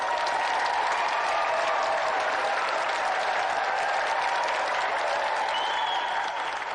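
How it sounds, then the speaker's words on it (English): A television game show studio audience claps loudly and steadily for several seconds, a dense sustained wash of applause with no voices on top. "And let's give another round of applause for our 2 brilliant competitors tonight, Peter Deitch and Henry Coleman Jr."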